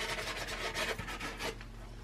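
A green budget pastel stick being sanded, close and quiet, with short rhythmic rasping strokes and no talk.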